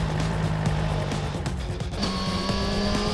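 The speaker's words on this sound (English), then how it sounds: "the one-touch Suzuki Easy Start system, which keeps the starter motor turning until the engine fires." A Suzuki GSX-R1000 sport bike engine, started with the one-touch Suzuki Easy Start system, runs loudly and continuously with a steady mechanical drone and a low, even hum throughout.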